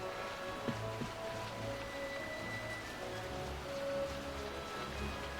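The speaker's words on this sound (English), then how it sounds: "Oh, look, it's raining again." Rain falls in the Final Fantasy 12 game world, a soft, constant patter under low game music and ambience, faint and distant.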